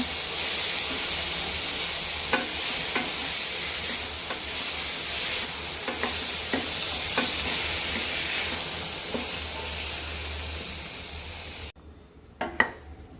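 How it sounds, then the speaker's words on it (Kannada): Chopped raw tomato sautés in a pan with a steady, close sizzle and hiss, broken by repeated scraping stirs of a utensil, until the sizzling suddenly drops away near the end. "ಕಾಯಿ ಟೊಮೆಟೊವನ್ನು ಕೂಡ ಸೇರಿಸ್ತಾ ಇದ್ದೀನಿ ಇದಕ್ಕೆ. ಇದೆಲ್ಲವನ್ನು ಸ್ವಲ್ಪ ಚೆನ್ನಾಗಿ ಬಾಡಿಸ್ಕೊಂಬೋಣ"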